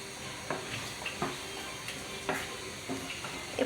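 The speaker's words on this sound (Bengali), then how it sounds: "এই পর্যায়ে আমরা সিদ্ধ করে রাখা বটটা দিয়ে দিব" Boiled beef tripe goes into hot sizzling masala in a pan, giving a quiet steady sizzle broken by scattered soft clacks and scrapes of stirring, with no voices.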